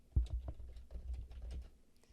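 Quick keystrokes tapped on a computer keyboard, a short burst of about eight soft clicks at an uneven rhythm, close and quiet with no talking.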